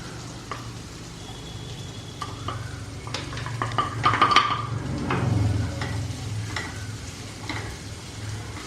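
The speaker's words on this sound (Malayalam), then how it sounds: "ഉഴുന്നിൻ്റെ നിറം ചെറുതായിട്ടൊന്ന് മാറുമ്പോൾ നമുക്ക് സവോള നീളത്തിൽ അരിഞ്ഞ് വെച്ചിരിക്കുന്നത് ഇട്ട് കൊടുക്കാം" Long-sliced onions frying in a pan with urad dal, stirred with a utensil that gives intermittent clinks and scrapes over a steady soft sizzle.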